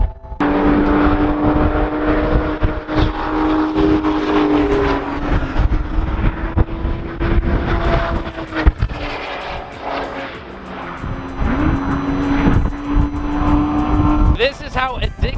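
A BMW race car, an F30 335, runs laps on a track at a track day, its engine droning steadily with pitch rising and falling through gear changes, loud and continuous for about fifteen seconds.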